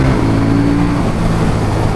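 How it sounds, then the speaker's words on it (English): A KTM 790 Duke motorcycle on its standard exhaust holds a loud, steady engine drone with a low rumbling tone that shifts in pitch, close and alone with no talk. "For the standard exhaust on it, it pops, crackles, it sounds absolutely gorgeous."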